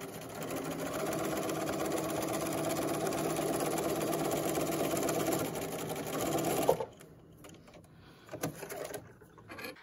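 A sewing machine runs steadily for about seven seconds, stitching a 1/4 inch seam down the edge of a small fabric rectangle for pajama pants, then stops abruptly, leaving faint handling noises.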